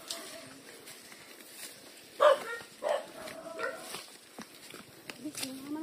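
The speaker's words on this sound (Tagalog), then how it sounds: "Yan na, mga aso namin." Two or three sharp dog barks ring out close by, spaced a second apart, with quiet talking and movement around them.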